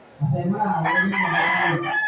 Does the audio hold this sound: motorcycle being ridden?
no